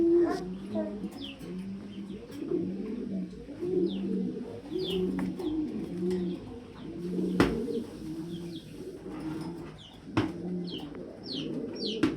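German Beauty pigeons at a pigeon farm coo steadily in soft, repeated rolling phrases, with a few higher bird chirps scattered over a low ambient background.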